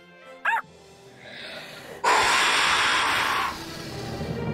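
Cartoon puppy gives a single short, high yip, followed by a whooshing magical burst and a sustained, loud bubbling fizz that fades slightly toward the end.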